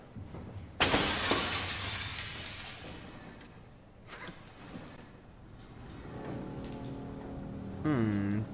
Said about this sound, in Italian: devo rompere questo qui per caso, il vetro?